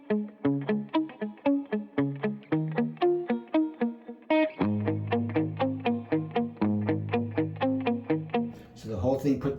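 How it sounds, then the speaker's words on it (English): An electric guitar plays a short, clipped, palm-muted 80s pop riff, picking rapid repeated notes in a tight rhythm, then shifting to a lower muted figure, near and clear. "you want to have your palm muting going across the whole bridge"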